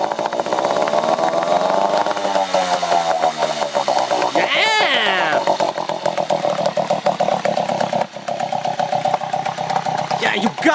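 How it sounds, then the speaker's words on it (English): A Tohatsu 3.5hp outboard boat engine, long neglected and being revived in a shipyard, runs steadily and loud, its pitch climbing and wavering as it is given throttle, with a few short sweeping tones and people talking over it. "Now gonna give it some gas."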